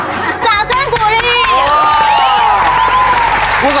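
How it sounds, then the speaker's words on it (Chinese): Applause and cheering from a studio audience on a Chinese variety entertainment show, a loud steady clatter of clapping lasting the whole moment, mixed with excited voices and chatter. "好，掌声鼓励。"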